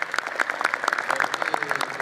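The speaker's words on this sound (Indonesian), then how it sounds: "Tepuk tangan untuk kalian teman-teman." Sparse, scattered clapping from a stand-up comedy audience, a few hands beating in an uneven patter for a couple of seconds with no one talking.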